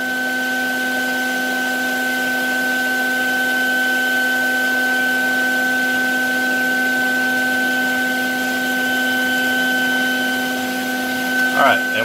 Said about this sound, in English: now you could hit it with a polisher. Make sure that's nice and smooth.